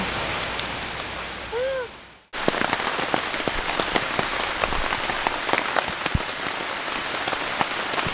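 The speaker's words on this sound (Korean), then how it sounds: "비가 와요." Steady rain pattering on a tarp tent in a rainforest, a dense wash of close drops with sharp individual taps, preceded by a brief tonal chirp and a short cut to silence before the downpour resumes.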